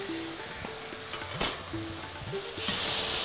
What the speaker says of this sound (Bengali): ভালো করে কষে ফেলতে হবে মশলাটা দিয়ে।